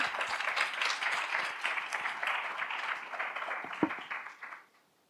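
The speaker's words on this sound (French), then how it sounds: "Bienvenue Nathalie, on peut l'applaudir aussi" A conference audience claps steadily, many hands together, then the applause fades out quickly near the end.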